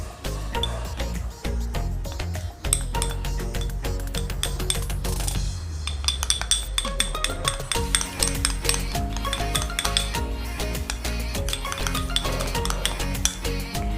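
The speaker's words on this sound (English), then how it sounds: "mix it well with your spoon" A spoon stirs a homemade facepack mixture with lime in a bowl, producing steady rapid clinks and scraping taps that continue throughout, fairly loud and close, with no voices.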